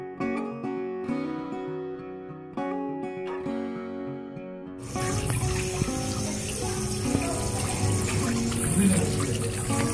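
Tap water runs into a sink while fish is washed, at first a light trickle and splashing, then a loud, steady full-flow gush.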